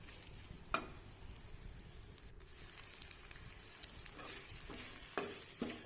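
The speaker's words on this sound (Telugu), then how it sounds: "అవన్నీ రొయ్యలకు పట్టే విధంగా బాగా మిక్స్ చేసుకోవాలి కాసేపు మళ్ళీ వేపుకోవాలండి రొయ్యలు" Dry prawns coated in ginger-garlic paste fry quietly in a pan with a faint, low sizzle. Occasional soft scrapes and taps come from stirring.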